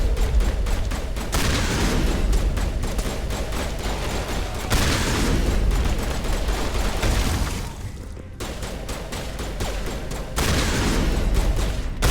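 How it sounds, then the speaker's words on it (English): A shotgun firing in the video game Mass Effect, dense booming blasts repeating in loud bursts with brief pauses between volleys. "This shotgun does shoot very slow."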